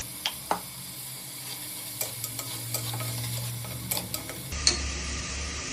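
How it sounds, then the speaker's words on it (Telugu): Crushed ginger and garlic hit a hot pan of mutton curry base, sizzling steadily while a spoon stirs and scrapes with several sharp knocks against the pan; close and clear with no talking. "దంచి పెట్టుకున్న అల్లం వెల్లిగడ్డ వేసుకోవాలి."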